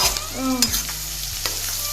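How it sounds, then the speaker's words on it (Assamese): Food frying and being stirred in a pan at home until slightly reddened, a steady close sizzle with scraping stir strokes and a couple of brief clatters. "অকণমান ৰঙা হোৱালৈকে ভাজি ৰাখিম"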